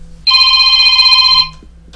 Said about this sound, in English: Let me just stop that phone.